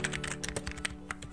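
A short close burst of computer keyboard typing as a name is entered, quick uneven keystrokes clicking in a rapid run with no voices.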